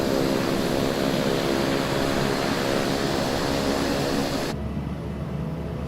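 A turbine engine of a Duke aircraft in a flight simulator game runs with a loud, steady, droning roar and a high whine, holding constant before the upper hiss drops away near the end.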